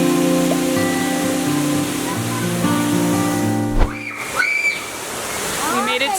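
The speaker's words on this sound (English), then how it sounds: "We made it to the waterfall." A remote waterfall in Tequila, Mexico pours with a steady, broad rush, overlaid by sustained whistling tones and brief voices near the end.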